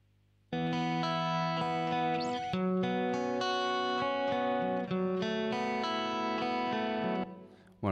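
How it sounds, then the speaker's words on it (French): Sustained synth or instrument chords ring through a second reverb effect in the Soundtrap online studio, loud and smeared with lingering tails as the notes change, then cut off near the end. "Donc avec la deuxième reverb."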